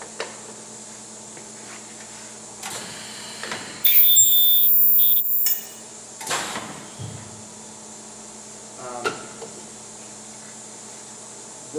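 A Sharpertek 15 kHz ultrasonic plastic welder performs a short weld, a loud steady high-pitched whine held for about a second and a half, framed by scattered clicks and handling clatter in a quiet room.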